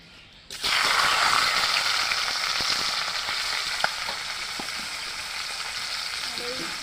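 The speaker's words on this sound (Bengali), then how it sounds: "মাছের মাথাটা ভেজে নেব" A sudden loud sizzle bursts out as a salted fish head hits hot oil in a wok, then settles into a steady close frying hiss with small pops and clicks.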